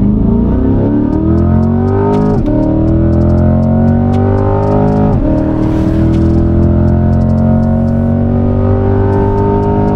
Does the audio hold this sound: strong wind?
no